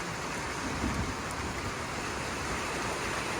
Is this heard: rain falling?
yes